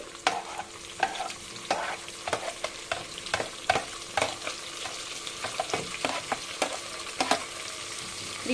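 Three tomatoes added to hot oil in a pan while cooking Nellore chicken biryani give a steady sizzle, broken by frequent scraping and stirring clicks of a spoon against the pan, close and continuous.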